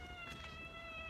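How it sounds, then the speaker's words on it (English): A cat meowing, a short, faint, drawn-out call set against steady background noise. "And all that meowing is not gonna work for you."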